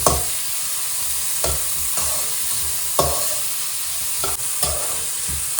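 Ingredients for a green chicken curry frying in a pan, a loud steady sizzle with regular scraping strokes of a spoon stirring them around, no voices.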